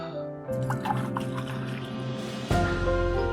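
Water poured into a glass, trickling and filling with small drips and splashes over a steady tonal background, ending in a louder burst near the close.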